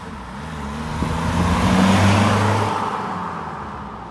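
A BMW E90 318d diesel engine fitted with a K&N air filter runs steadily at close range, a low rumble that swells slightly toward the middle and eases off again, with no talking.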